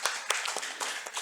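A church congregation gives a round of encouraging claps during a Sunday service: a close, brisk volley of distinct hand claps, fairly sparse and uneven, with no talk over them.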